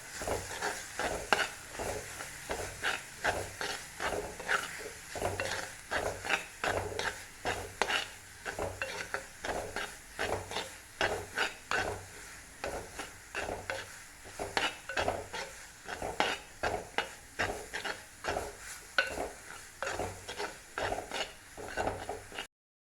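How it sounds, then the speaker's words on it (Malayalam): Crushed coconut being stirred in a hot pan for anchovy thoran, a steady rhythmic scraping of a spoon against the pan with a light sizzle underneath, close and continuous with no talking. "നമ്മൾ ചതച്ച് വെച്ച തേങ്ങയൊക്കെ ഇട്ട് കൊടുത്ത് നന്നായിട്ടൊന്ന് അലക്കി കൊടുക്കാം"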